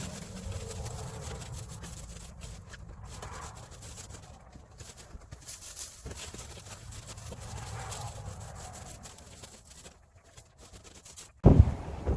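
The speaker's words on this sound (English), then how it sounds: "as you might be able to tell, it's pretty windy out" Strong outdoor wind buffets the microphone in a steady low rumble for most of the stretch at a shed construction site, with brief gusty peaks, a few quieter lulls and a sharp thump near the end.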